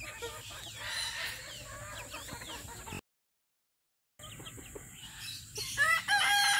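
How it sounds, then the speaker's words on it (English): Young paint silkie chicks cluck and chirp softly, fairly faint and close, with a short gap of silence midway and some brief flapping and rustling near the end. "Look guys, at the two new chicks we got from the chicken swap. These are paint silkies."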